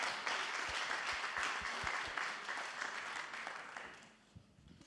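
Audience applause at a vocational excellence award ceremony, a full burst of clapping with a few distinct hand claps that gradually thins and fades toward the end.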